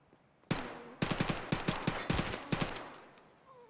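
Rapid gunfire bursts from a weapon emptying its magazine in Escape from Tarkov, starting abruptly with a loud shot, then several quick clusters of sharp, close reports over about three seconds before falling quiet.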